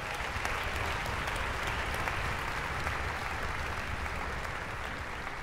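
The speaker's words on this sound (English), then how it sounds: "Would you please give them all a round of applause?" Steady, dense audience applause fills the whole stretch, a continuous even clatter of many hands greeting school board members at a high school music festival.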